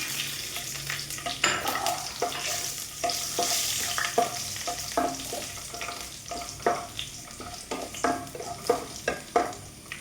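Garlic and two or three dried red chillies frying in a pan, a steady crackling sizzle broken by repeated scraping stirs and light clinks of a utensil against the pan, close and with no talk.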